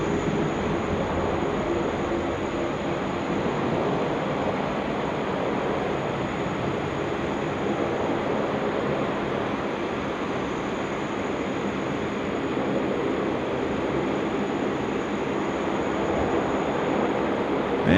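A Velocity Boeing 737-800 jet departs Sydney Airport on runway 16 right, its engines a steady, broad roar that holds loud and unbroken throughout with no talk.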